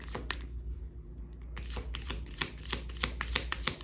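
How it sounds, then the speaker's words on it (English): A deck of tarot cards is shuffled close by, with a run of sharp, rapid riffling clicks and snaps over a low steady background hum. "I'm gonna shuffle 2 more times"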